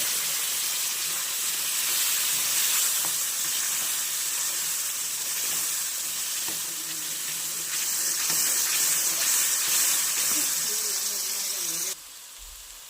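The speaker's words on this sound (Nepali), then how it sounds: "अब चाहिँ पानी हालिदिन्छु" Hot water pours into rice halwa roasting in a pan, producing a loud continuous hissing sizzle and steam rush lasting several seconds, close up, before cutting off abruptly.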